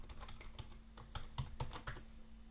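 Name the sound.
typing a password on a computer keyboard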